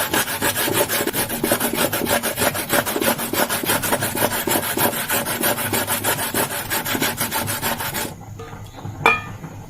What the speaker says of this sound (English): For the carrots, I'm going to use the fine part of my grater to grate